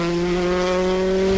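A rally car slides its rear on a tarmac road at the Rali Vinho Madeira 2014, its engine holding a steady loud drone with a faint tire hiss, no voices.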